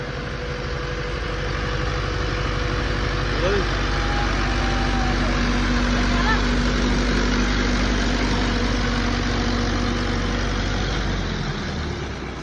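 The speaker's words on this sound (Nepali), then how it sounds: "जेठुको ट्र्याक्टर चाहिँ यसो चलाउनु मौका पाएँ मैले" A tractor engine idles and runs steadily at close range for the whole stretch, a low continuous rumble with people talking over it as someone learns to drive.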